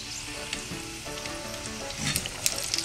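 Ring samosas deep-fry in oil in a large kadai, a dense continuous sizzle and bubbling with occasional louder pops and crackles toward the end, close and steady with no voices.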